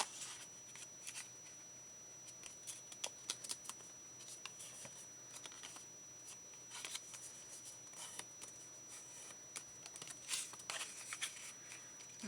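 Paper pages for a mini journal are folded by hand, making faint, close crinkles, rustles and brief sharp creases scattered irregularly in a quiet room, with no talking.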